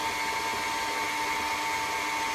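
A stand mixer runs steadily on medium speed, beating butter with brown and white sugar into a light, fluffy mix, its continuous motor whir close and even throughout with no voices.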